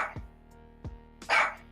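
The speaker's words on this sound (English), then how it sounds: "2 barks for 2 times." A dog barks twice at a live auction, each bark short and sharp at moderate distance with a gap of about half a second, followed by a louder, noisier burst of sound.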